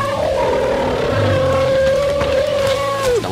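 An elephant trumpets or calls in the jungle, a long, loud, steady cry that holds its pitch for about three seconds and then drops off sharply at the end.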